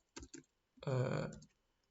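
A short run of clacking computer keyboard keys, two quick taps and then a fast burst of typing that stops abruptly, heard up close in a quiet room with no talking.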